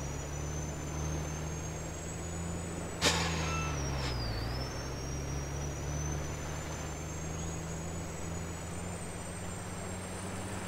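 A truck in the video game Farming Simulator rumbles along at a steady drone. An air-brake hiss cuts in partway through, a whining tone dips in pitch, and the engine hum then carries on alone.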